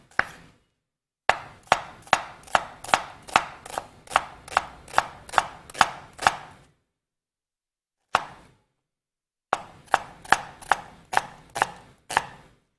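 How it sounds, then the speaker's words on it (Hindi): An onion being finely chopped with a knife on a board, crisp rapid chops in close, evenly spaced bursts with a couple of short pauses between runs. "इसको मैं क्या करूँगी, इसको मैं ऑमलेट की तरह कर लूँगी चॉप"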